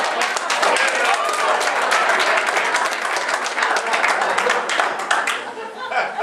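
Loud, sustained applause from a town hall meeting crowd, dense clapping throughout with a few voices mixed in, tapering slightly at the end.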